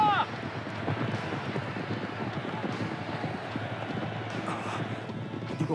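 A racehorse gallops in an animated race, hooves clip-clopping in a steady rapid rhythm, fairly loud and close, with wind noise throughout and a brief whinny-like cry at the start.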